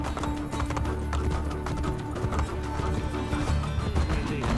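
Two horses gallop through the streets in Assassin's Creed Brotherhood, their hooves beating a steady, rapid clip-clop over a low rumbling game ambience, close and loud throughout.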